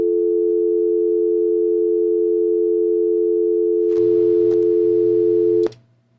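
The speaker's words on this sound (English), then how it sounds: "Can you hear the dial tone?" A steady telephone dial tone hums continuously and loud, with a click and some rustling handset noise near the end before it suddenly stops.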